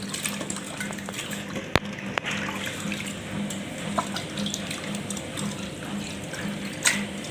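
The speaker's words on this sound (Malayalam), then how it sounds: "രണ്ട് മൂന്ന് വെള്ളത്തിൽ നമുക്ക് കഴുകി വൃത്തിയാക്കി എടുക്കാം ബീഫ്." Beef pieces rinsed under a running kitchen tap for a Kerala-style beef curry, a steady close wash of flowing water with a few sharp clinks and splashes, no voices.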